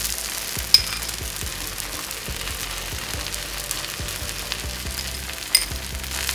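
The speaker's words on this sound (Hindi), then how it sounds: "हल्के हाथ से इसको हम प्रेस करेंगे जिससे ये अंदर तक सिक जाए, सूजी हमारी क्रिस्पी हो जाए" Semolina-coated bread toast sizzles in ghee on a pan, pressed down lightly, giving a steady soft crackle with a couple of sharp clinks.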